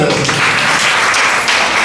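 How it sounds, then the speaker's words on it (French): Brief burst of audience applause at an Easter symposium, a thick wash of clapping that stays loud from start to finish, near and alone. "Applaudissez pour elle"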